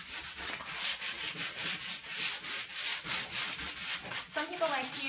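Rhythmic 220-grit sandpaper strokes rubbing over a wooden furniture finish, close and steady, with a faint squeak near the end.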